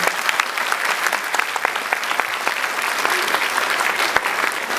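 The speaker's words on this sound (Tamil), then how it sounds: "அவருக்கு மீண்டும் ஒரு கைத்தட்டல் அளிப்பார்." Steady, dense applause from an audience at a Tamil speech event honouring the speaker, many hands clapping at once at an even level for the whole span, fairly close and without audible talk.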